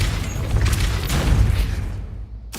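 Booming magical blast of the Depulsor spell in Hogwarts Legacy, a dense rumbling burst that fades over two seconds into near quiet before a sharp final crack.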